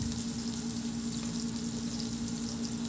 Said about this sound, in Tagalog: Maglagay ng mantika sa kawali at igisa ko na rin yung sibuyas.